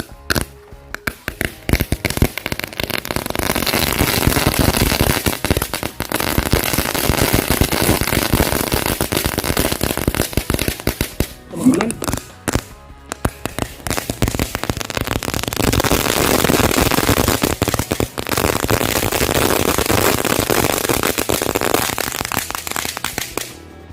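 Firecrackers and fireworks going off inside a bottle, a dense, loud, continuous crackle of rapid pops and sizzling that runs nearly the whole time, with a brief drop in the middle before the popping resumes at full intensity.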